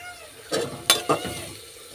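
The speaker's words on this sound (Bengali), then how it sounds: "এবার এটা একটু নেড়ে চেড়ে নিই।" Food frying in a pan with chopped chilli is stirred, giving a few distinct scraping strokes over a soft sizzle, close and fairly loud with short pauses between strokes.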